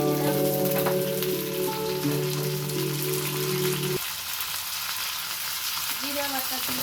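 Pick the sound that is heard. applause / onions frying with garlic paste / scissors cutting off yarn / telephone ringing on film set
onions frying with garlic paste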